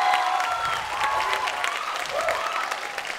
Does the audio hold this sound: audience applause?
yes